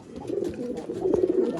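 Pigeons at a seller's loft give soft, rolling coos up close, a continuous low burbling murmur with slightly louder swells, heard alone without talk.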